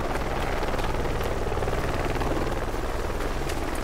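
Helicopter rotor in the military game Project Reality, a loud, continuous chopping roar with dense broadband noise, steady and close throughout with no break.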